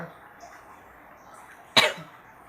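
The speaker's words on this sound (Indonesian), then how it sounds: "kalau memang mau batuk, batuk dikeluarkan. Batukkan aja, nggak apa-apa." A single short, sharp cough breaks through a quiet room, close and fairly loud against faint background murmur.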